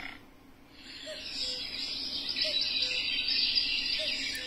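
A bird call played back by a talking pen tapped on the cuckoo icon of an educational sound book, a sustained bright chirping tone with a few short repeated notes, fairly clear and alone.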